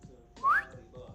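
A single voiced whistle sweeps upward in pitch, imitating a market price shooting up during live EUR/USD forex trading commentary; it sits in the middle of faint background talk and lasts about a fifth of a second.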